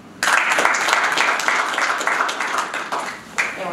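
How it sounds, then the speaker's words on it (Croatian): An audience at a founding assembly of the Homeland Movement party for Split-Dalmatia County breaks into sudden applause for the county commissioner. The clapping is loud and sustained and fills the room, with a fresh burst near the end. "molim vas da pljeskom pozdravite povjerenika Domovinskog pokreta za Splitsko-dalmatinsku županiju, gospodinu Nikola Gravnicu."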